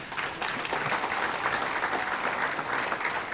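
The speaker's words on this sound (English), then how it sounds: "Give him a round of applause" Steady applause from an indoor crowd, dense continuous clapping at moderate volume throughout.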